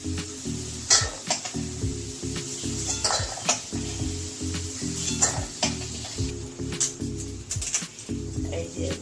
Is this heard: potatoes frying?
yes